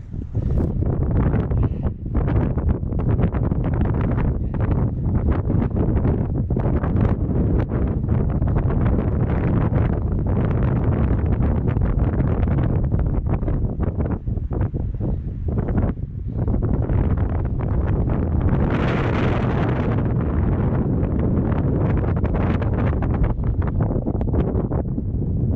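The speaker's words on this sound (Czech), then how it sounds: "vidím, že dron to tady nepřežije, takže radši opouštět nebudem, protože to tady neskutečně fouká." Strong wind roars at an exposed lookout tower in the Czech countryside, buffeting the microphone in loud, continuous gusts. It stays alone throughout, with a brief shift in tone partway through.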